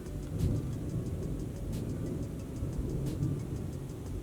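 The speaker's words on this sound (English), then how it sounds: "We have a thunderstorm happening at the moment." Low rumble of thunder from a passing thunderstorm rolls steadily underneath a faint, regular ticking, with no talk, the deep roll swelling slightly around the middle and end.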